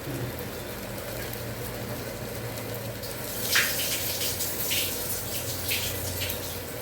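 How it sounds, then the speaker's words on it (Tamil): Water runs from a tap to wash rice and add water for cooking, a steady rushing flow that swells into a louder gush of splashing partway through, with no talking. "இப்போ நம்ம அரிசியை கலஞ்சி போடுறோம்."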